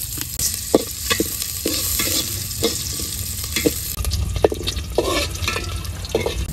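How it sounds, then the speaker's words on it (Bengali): Chopped onions frying in oil for beresta before pulao, a loud close sizzle with repeated scraping stirs and clacks of a spoon against the pan, no speech. "তেল দিয়ে দিলাম পোলাও বনের লেগে, পেঁয়াজ কুচি দিয়ে দিলাম, পেঁয়াজটা বেরেস্তা করে উঠেই রাখবো।"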